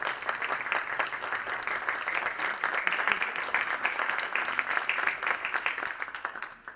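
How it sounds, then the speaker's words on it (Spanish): Audience applause for Zeca Ligueiro at a carnival voices congress in Barranquilla: sustained, dense clapping from a sizable crowd at steady volume throughout, with no speech over it. "despidamos con un aplauso a Zeca Ligueiro"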